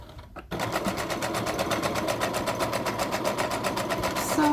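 A sewing machine stitches quilting lines across a product, running fast and steady at close range after a brief quiet start, its rapid needle pulses continuous and even throughout.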